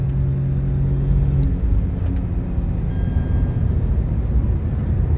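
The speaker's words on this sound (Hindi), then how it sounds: "गाड़ी आ रही है यार, गाड़ी आ गई सामने से" During a Creta versus Nexon drag race, a car approaches from the front with a loud, steady engine rumble and road noise that hold throughout, without talk.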